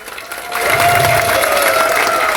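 Applause from a large seminar audience swells after a brief quieter start and stays as sustained, dense clapping from a crowded hall, with light cheering mixed in.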